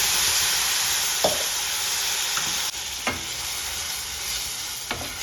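A paste of ground onion, garlic, ginger and chili sizzles and fries in a pan, a steady loud hiss broken by a few stirring scrapes.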